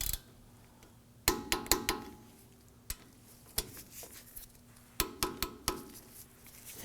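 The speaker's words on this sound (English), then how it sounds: "We now want to go ahead and torque down these bolts to 27 foot-pounds." Hub bolts on a 2015-2020 Ford F-150 front hub assembly are torqued down with a torque wrench, giving quick bursts of sharp ratcheting clicks separated by short pauses, close and fairly quiet.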